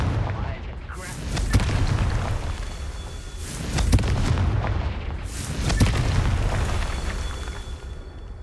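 Hogwarts Legacy Confringo spell explosions go off three times as heavy booming bursts. Each blast rolls into a rumbling tail under a steady background, with roughly two seconds between bursts.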